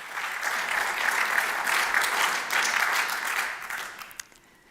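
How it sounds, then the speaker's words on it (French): Warm audience applause at a workplace label award ceremony, dense sustained clapping that holds steady for several seconds before thinning out and fading near the end. "Applaudissements, s'il vous plaît."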